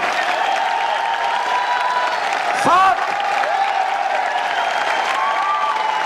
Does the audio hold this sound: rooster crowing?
no